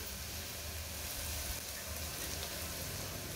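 Mutton pieces going into frying masala for a pressure-cooker mutton curry, a steady, dense sizzle with a broad hiss that holds at an even, moderate level throughout without pause.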